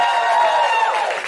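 A live comedy-show audience applauds for Daz Parker, a dense, steady wash of clapping and cheering that fills the room evenly for the whole moment.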